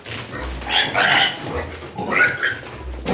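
A pig grunts in a few low, rough bursts in a Romanian-language comedy sketch, close and fairly loud, with a brief bark-like note mixed in and no speech over it.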